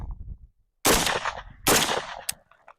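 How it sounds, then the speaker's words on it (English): Gunshots fired at a target on a shooting range, two sharp, loud, close reports about a second apart, each trailing a brief echo, followed by a faint click. "2 shots to the head."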